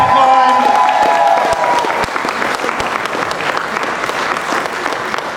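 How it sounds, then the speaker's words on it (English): Sustained applause from a crowd at a Miami-Dade campaign launch for District 9 county commissioner candidate Marlon Hill. Loud, dense clapping with a brief whistle at the start, easing slightly but continuing throughout. "Keep that applause going,"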